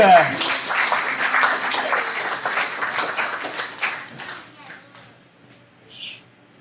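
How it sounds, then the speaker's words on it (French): Applause and clapping from an audience greeting a performer, loud at first and then thinning out to scattered claps over several seconds. "Mesdames et messieurs, on applaudit Gabriel Houd"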